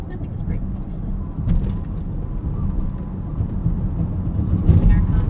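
A 2023 BMW X1 loaded with luggage, in Sport mode, accelerates to merge on a road trip: a low, rumbling engine and road roar rising toward the end, with wind noise and a few faint clicks inside the cabin.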